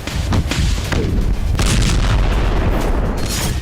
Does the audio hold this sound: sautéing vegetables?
no